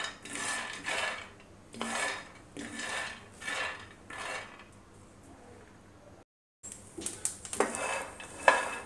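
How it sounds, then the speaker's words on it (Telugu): Peanuts roasting in a pan over a medium flame, stirred with a spoon in a steady rhythm of scraping, rattling strokes, close and fairly loud, with a brief gap before sharper clinks of metal on the pan. "మీడియం ఫ్లేమ్ పెట్టుకొని వేయించుకోవాలి."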